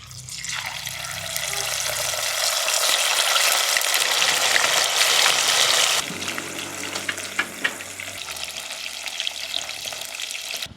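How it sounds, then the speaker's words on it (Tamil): Fish sizzles loudly in hot oil for a Jaffna-style fried fish curry, a dense, close crackle that holds steady, then softens to a quieter bubbling fry with scattered pops. "இப்போ எண்ணெய் வந்து நல்லா சூடாகிட்டு இதில் நாங்கள் இந்த மீனை போட்டு பொறிச்சு எடுத்துடுவோம்"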